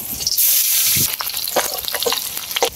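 Onion dropped into hot oil with bay leaf, cinnamon and cardamom powder, loud sizzle flaring up at once then settling into steady frying crackle with stirring scrapes, near and alone without talk.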